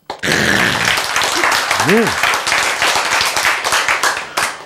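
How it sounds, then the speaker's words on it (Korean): A church congregation breaks into loud, sustained clapping and applause during a sermon on faith and sin paid on the cross, with a voice speaking briefly over it. "박수!"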